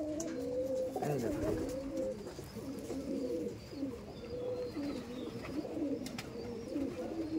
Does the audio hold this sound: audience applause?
no